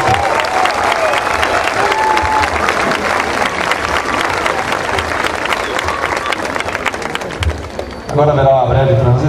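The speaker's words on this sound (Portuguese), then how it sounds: "uma deliciosa salva de palmas aos nossos policiais artistas" Loud, dense applause from a large audience honoring police officers who performed in a church cantata, sustained for about eight seconds with scattered cheers before a voice speaks over the fading claps.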